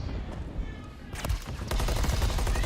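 Rapid gunfire bursts from submachine guns in a Call of Duty League esports match, with loud fast volleys swelling in the second half under energetic caster commentary.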